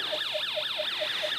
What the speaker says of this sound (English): we get our police siren sound effect because we're using the middle input of our alarm IC